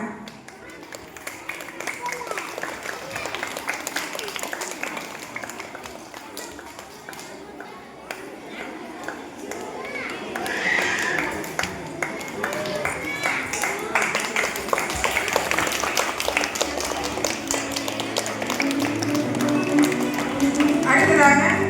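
An audience at a summer music-school training closing ceremony claps in sustained applause that builds louder toward the end, with a voice speaking over the clapping.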